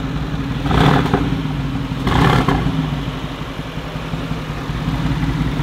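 A 500 hp, 2.5-tonne 4x4 fires up with two heavy revving bursts, then settles into a deep, steady idle rumble close by.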